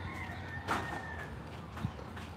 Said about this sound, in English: Let me see who the chicken talking about.